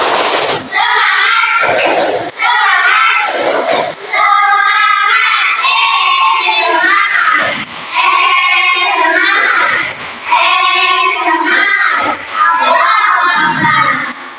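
Fifth-grade pupils in an Islamic religious education class shout the tepuk semangat chant together, loud rhythmic phrases of young voices mixed with clapping and separated by short pauses.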